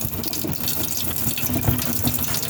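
Tap water running steadily into a sink during washing, a continuous close splashing rush with no voices.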